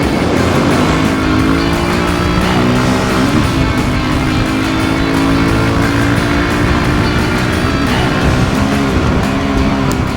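Suzuki DRZ400 dirt bikes accelerating side by side in fourth gear from a rolling start on beach sand, a loud continuous engine roar with wavering pitch that stays close and dominant throughout.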